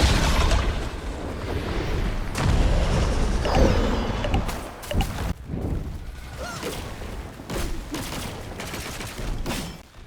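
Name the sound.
boss explosions in Black Myth Wukong video game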